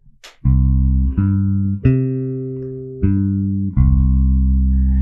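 A deep electric bass plays a Cuban tumbao line of sustained, resonant notes, each attack anticipating the beat on both sides of the bar, the downbeat left out, with no other instruments.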